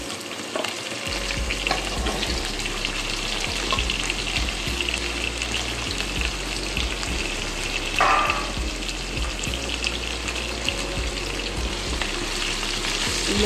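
Potatoes and taro frying in hot oil for a Bengali fish curry: a steady, dense sizzle that runs the whole time, with a brief sharper crackle partway through.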